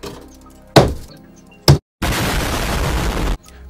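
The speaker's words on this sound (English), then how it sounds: "Try and break the glass in the middle." A hammer strikes a train window twice in sharp, loud cracks, then the glass shatters in a sustained burst of breaking and tinkling fragments lasting over a second before stopping abruptly.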